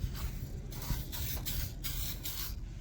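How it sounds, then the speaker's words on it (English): Several short hissing bursts of aerosol spray polish onto a bike, close by, in an irregular series of quick spritzes. "hit the really heavily scratched spots with the spray polish and instant detailer"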